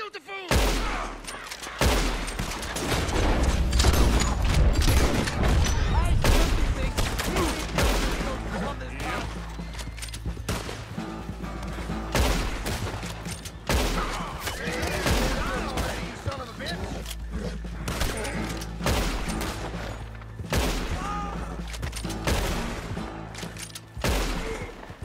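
Heavy gunfire rings out in Red Dead Redemption 2, with rapid bursts and repeated shots packed tightly together, loud throughout and mixed with shouting voices.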